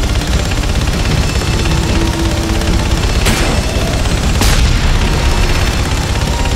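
Gunfire in the video game Enslaved: Odyssey to the West, a dense, loud wash of shooting and booms over steady noise, with two sharp blasts standing out near the end.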